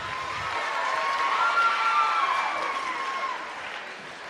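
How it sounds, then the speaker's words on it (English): Audience applause and cheering in a large hall as volunteers come up on stage, a steady wash of clapping and crowd noise that swells midway and then eases slightly. "Give these guys a round of applause as they come up."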